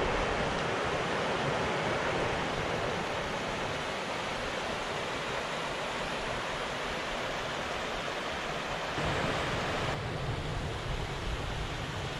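A small cascading waterfall on a path in the Cairngorms rushes in a constant, full hiss of cascading water, close and unbroken throughout.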